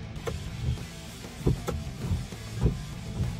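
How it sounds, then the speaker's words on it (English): Windshield wipers on a 2017 Toyota Camry sweep back and forth with a low motor hum and rhythmic thumps at each turn, heard close inside the car with no talking. "And then the windshield wipers."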